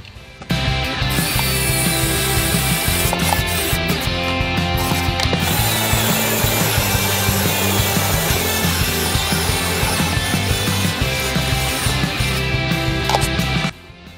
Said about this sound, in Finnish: porataan siellä alapuolella toinen reikä, mistä vedetään läpi asti